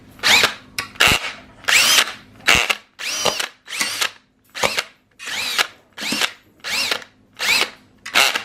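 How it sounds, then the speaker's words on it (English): A DeWalt power drill spins a pork puller through cooked BBQ pork shoulder in about eleven short, loud bursts, each whir rising and stopping with brief pauses between, close up and without talk. "my DeWalt drill and a pork puller"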